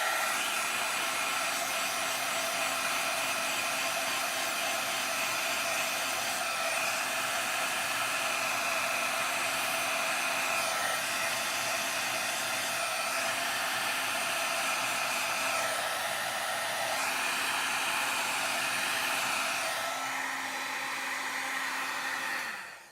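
A heat gun blows a loud, steady whoosh for about twenty seconds while it melts embossing powder on a craft project, with slight shifts in pitch as it moves, then it cuts off at the end.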